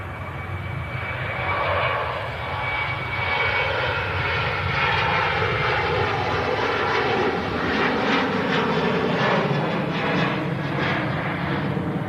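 Aircraft engines at Manchester Airport, with a Ryanair 737-800 and heavy A330 jets departing: a steady, fairly distant roar that holds evenly for the whole stretch, with no voices.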